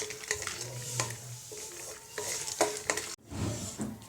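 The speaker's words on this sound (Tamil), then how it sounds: "இப்போ நிலக்கடலையை தனியாக வறுத்துக்கலாம். லைட்டாக எண்ணெய் ஊற்றி" Crackling, spattering sizzle of peanuts roasting in a little oil in a pan, with scraping and stirring clatters throughout and a brief cut near the end.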